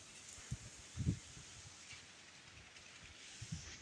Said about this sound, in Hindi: और तेज़ तेज़ हवा चल रही है